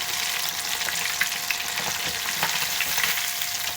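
Fish sizzling and crackling in hot oil as it crisps, a dense, steady frying hiss with small pops, close by and continuous with no talk.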